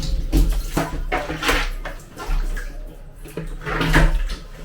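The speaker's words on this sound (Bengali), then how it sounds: "চার সাইডে জল দেখুন মগ দিয়ে দিচ্ছে" Water is poured from a mug in splashing bursts to rinse a water tank, several close sloshes and pours with short pauses between them.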